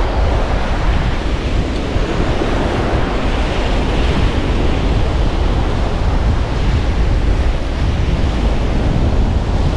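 Sea waves and wind on a shore on the way to a river, a loud continuous rush of surf with wind buffeting the microphone, broadband and steady for the whole stretch.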